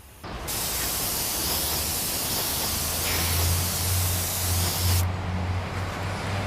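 A spray gun lays clear coat over a repaired motorcycle fairing with a loud, continuous close hiss for about four and a half seconds, then cuts off abruptly, leaving a low hum.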